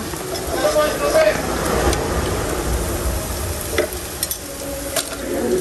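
Banana flower frying in oil: a steady close sizzle with stirring clatter and scraping, and voices talking over parts of it.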